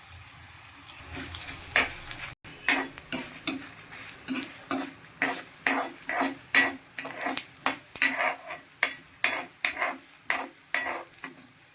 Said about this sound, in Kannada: ಇವಾಗ ಕ್ಯಾಪ್ಸಿಕಮ್ ಗ್ರೇವಿಗೆ ಬೇಕಾಗೋ ಮಸಾಲವನ್ನು ಫ್ರೈ ಮಾಡ್ಕೊಳ್ಳೋಣ